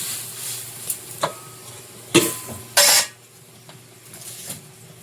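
Water splashes into spices frying in a pan for a banana-flower and prawn curry, giving two short, loud bursts of sizzle over a quiet background of faint clinks and scrapes.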